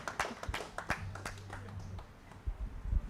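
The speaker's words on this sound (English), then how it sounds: "A round of applause for her." An audience at a book launch in Abuja gives sparse, faint clapping in a room, with a few scattered claps rising and trailing off, picking up again near the end.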